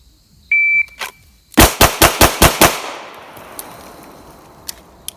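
Six quick, loud gunshots from a Beretta Elite LTT pistol fired in rapid succession at close range, each crack ringing out briefly, preceded by a short electronic beep and a faint knock, then near silence with small clicks.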